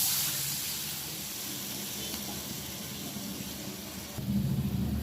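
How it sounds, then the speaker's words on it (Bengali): Water poured into a pan of fried spices brings a steady hissing sizzle that swells into a louder bubbling gush near the end. "মশলাটা কষানো হয়ে গেছে, এবারে আমি জল দিয়ে দিলাম।"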